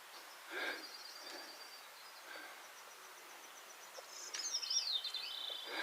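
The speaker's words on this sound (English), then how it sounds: "That's Bicknell's thrush. Another thrush, Bicknell's thrush." A Bicknell's thrush's flutey, spiraling song rings out in a quiet forest along the Appalachian Trail near Franconia, with faint chirps before it and a rising, tumbling phrase near the end.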